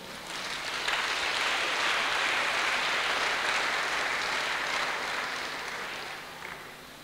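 A church congregation applauds to acclaim the Lord during a Sunday service, a sustained, dense round of clapping that builds quickly, holds for several seconds, then gradually thins out.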